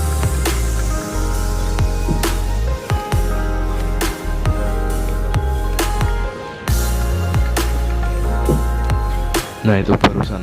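A car's leaf-spring suspension thuds and clunks as it rolls over a potholed, uneven road in Grobogan and Blora, with a few low knocks under continuous road and engine rumble and someone talking throughout.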